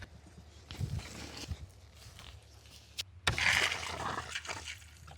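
Water starts running from a hose attached to a tank, a soft rushing and splashing that swells after a few quiet bumps and shuffles.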